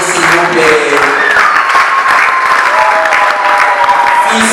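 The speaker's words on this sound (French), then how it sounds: "On applaudit s'il vous plaît." A church congregation claps steadily and loudly for the whole stretch, dense applause with a few voices rising over it, celebrating at a thanksgiving gathering.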